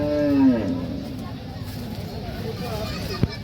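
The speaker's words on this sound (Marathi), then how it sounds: "या ठिकाणी आपण पाहताय टॉप क्वालिटीच्या गायी कालवडी विक्रीसाठी" A cow lets out a loud moo at a cattle market where cows and heifers are sold, followed by a murmur of crowd noise and a sharp knock.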